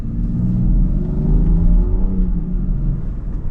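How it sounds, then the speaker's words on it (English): A 2026 Land Rover Defender 130 with an inline-six engine drives along, its smooth, steady engine hum and low road rumble rising slightly in pitch as it pulls, heard up close from inside. "it always just amazes me whenever I drive one of these Land Rovers."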